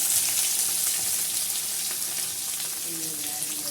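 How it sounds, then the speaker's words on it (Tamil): Cut shallots fry with chana dal and cashews in hot oil, giving a loud, continuous close sizzle with faint bubbling throughout. "ஒரு மூணு வெங்காயம் எடுத்து சின்ன வெங்காயம் மூணு எடுத்து கட் பண்ணி வச்சுருக்கேன் அதையும் அதில் போட்டுக்கலாம்"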